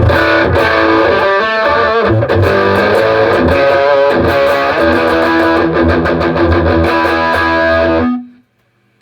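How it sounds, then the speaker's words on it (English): Loud, heavily distorted electric guitar chords through a Fender Pugilist distortion pedal churn steadily, then cut off near the end, leaving a brief ringing note before silence. "And here's the distortion on brutally clean."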